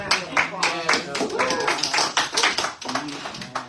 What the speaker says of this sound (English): I am in the studio giving a standing ovation.